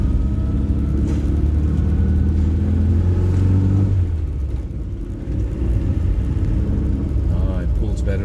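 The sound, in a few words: 1979 Toyota Corolla KE30 1.2L engine while driving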